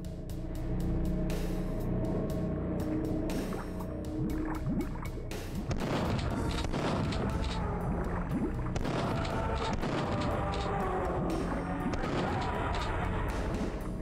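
Shotgun blasts go off in Duke Nukem 3D, a string of sharp, loud bursts spaced irregularly over a busy, rumbling game background.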